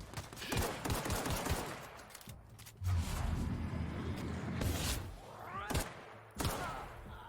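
Gunfire in the video game The Outer Worlds comes as rapid bursts of shots and heavy impacts, loud and close, in several volleys separated by brief pauses.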